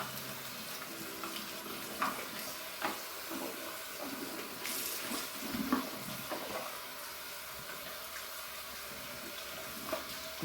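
Hot tap water runs and splashes over a cloth rag being rinsed out at a sink, a steady wet hiss with scattered drips and squishes, close and fairly quiet, no talking.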